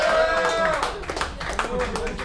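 A comedy-show crowd shouts and cheers in a loud, sustained burst, with scattered whoops and some clapping, voting that the toilet seat should stay up.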